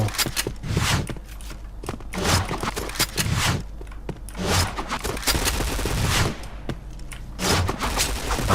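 Gunfire in a first-person shooter game sounds as sharp bursts of shots in irregular clusters, interspersed with footsteps and scraping, fairly close and punchy, with players talking between the volleys.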